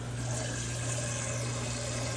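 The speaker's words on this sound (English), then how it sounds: "I'm putting the water in there." Water is poured into a cooking pot in a home kitchen, making a steady, continuous rushing fill sound with a low hum underneath and no voices.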